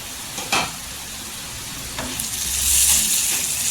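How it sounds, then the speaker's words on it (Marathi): Spicy green chilies sizzle steadily as they fry in oil in a pan, with a few sharp scrapes of a spatula stirring them and the sizzle swelling toward the end, close and without speech. "छान अशी तेलावर परतून घ्यायची आणि ढाकण लावायचं"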